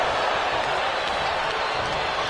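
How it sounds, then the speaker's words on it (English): A raucous arena crowd in the wrestling video game WWE 2K25 roars in a loud, unbroken wall of cheering and noise with no pauses. "What a raucous crowd here tonight."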